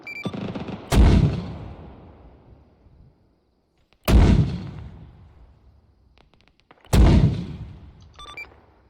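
Artillery rounds in the Arma 3 combat game boom out three times, each a loud, deep blast with a long rolling tail that fades over a couple of seconds, spaced roughly three seconds apart with near silence between.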